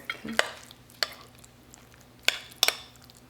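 A turkey enchilada casserole's meat and cheese mixture being stirred, with a few sharp spoon scrapes and clinks against the dish over a quiet background.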